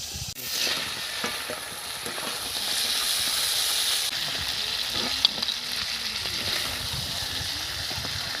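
A katla fish head fries in hot oil with a loud, continuous sizzle and hiss, close up and steady, with occasional bubbling pops and no talking.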